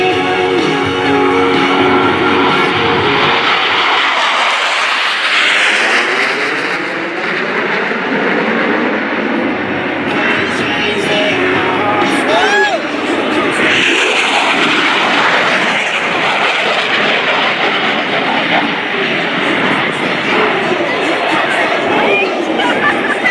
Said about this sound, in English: Aircraft at high speed to sneak into a target area virtually undetected.